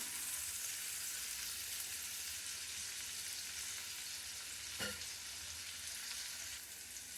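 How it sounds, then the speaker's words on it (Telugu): Chopped tomatoes cook in a pan with a quiet, even hiss of frying, steady and unchanging, with a single brief clink near the end. "కొంచెం ఇది టమాటా మెత్తబడే వరకు ఉడికించుకుందాము"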